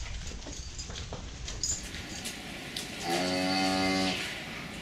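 A cow lets out one long, loud moo inside a zero grazing dairy farm, over a noisy barn background of clanks and livestock.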